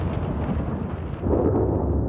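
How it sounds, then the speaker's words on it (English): Deep rumbling thunder from a heavy storm over a forest rolls continuously, swelling slightly toward the end, with a dense low roar of storm noise and no voices. "Heavy storms sweep across the forest."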